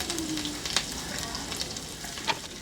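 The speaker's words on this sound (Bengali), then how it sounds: "আমি এখন কড়াইয়ে 2 টেবিল চামচ তেল গরম করে এর মধ্যে 1 টেবিল চামচ আদা, 1 টেবিল চামচ রসুন কুচি করা, ওগুলা দিয়ে একটু ভেজে নিব" Chopped garlic and ginger fry in hot oil in a wok over medium heat, a dense continuous sizzle close by with a few light clinks from stirring.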